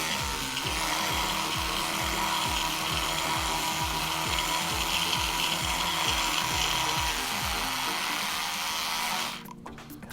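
An Oral-B Genius X electric toothbrush runs steadily against teeth, a constant close buzzing with rhythmic pulsing from the brushing strokes, which stops abruptly near the end.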